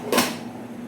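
A lid drops onto a pot of ginataang parrot fish with one quick metallic clunk, followed by a low steady hum.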